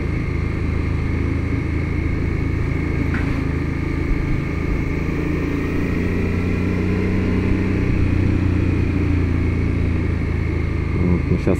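A motorcycle riding along a road in Japan from Osaka toward Tokyo, its engine droning steadily and loudly with constant wind rush throughout, no pauses.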